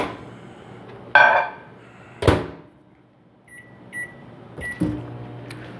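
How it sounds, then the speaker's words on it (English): A kitchen microwave oven warming a small dish of Hennessey glaze for salmon: a door clunks shut, buttons beep, a steady low hum runs, then a final beep and the door clicks open, close by with no talking. "I'm going to stick this in the microwave for about 20 seconds."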